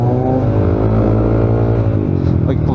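A tuned Yamaha Aerox scooter engine revs hard up close, its loud rising and falling whine filling the clip, with a voice briefly audible near the end.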